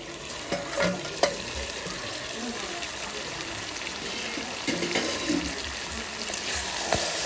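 Meat is sautéed and stirred in a pan, a continuous loud sizzle and fry with a few scraping knocks of the spoon against the pan as it is moved about.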